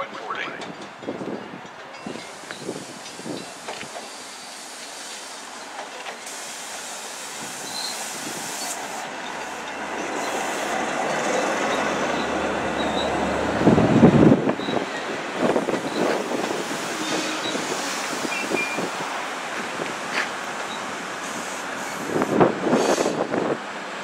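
A Long Island Rail Road train on the Montauk Branch rumbles into Sayville station at rush hour, its broad roar swelling and easing, with brakes hissing and faint squeals as it slows.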